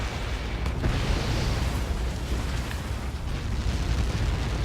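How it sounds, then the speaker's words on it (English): A massive explosion in the combat flight game Ace Combat 7 rolls out as a deep, sustained rumble and roar, loud and continuous without distinct individual blasts. "How many got caught in that explosion?"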